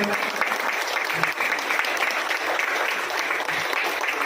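Continuous applause from attendees at a lawyers' event marking Advocates' Day, welcoming a new magistrate; dense, even clapping with a faint voice murmuring beneath it.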